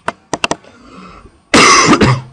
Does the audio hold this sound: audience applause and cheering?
no